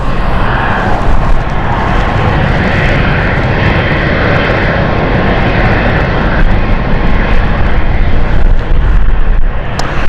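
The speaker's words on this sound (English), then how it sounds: "While we wait for Swiss, let's watch the Frankfurt flight park up" A passenger jet taxis onto its parking stand at London City airport, a loud, continuous engine roar and whine filling the air close by without letup, no voices.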